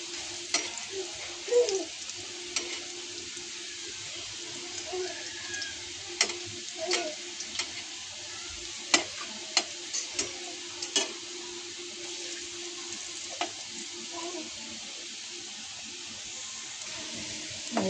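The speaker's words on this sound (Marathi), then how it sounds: "तेलात फ्राय करायच्या." Potato vadis shallow-fry in a little oil, with a soft, even sizzle carrying scattered small pops and ticks throughout and no voices.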